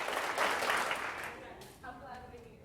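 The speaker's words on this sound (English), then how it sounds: "Clap 4 times." A group clapping in unison at a college event, a few bursts of applause blending into a short spell of crowd noise, with voices mixed in.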